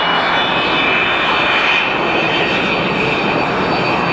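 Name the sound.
jet airplane taking off at Atlanta airport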